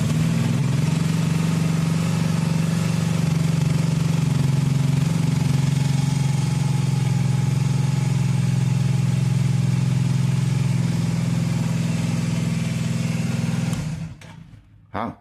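A motorcycle engine idles steadily and fairly loud close by, a low constant rumble holding for about fourteen seconds before it cuts off, followed by a brief short noise.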